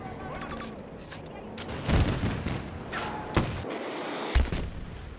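Gunshots and heavy booms punctuate a noisy Battlefield 2042 firefight, with a few sharp loud blasts over a rumbling background and voices talking through it.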